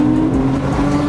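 A Lamborghini drives on a race track with a loud, steady engine drone and a sustained tonal whine during a brief close pass.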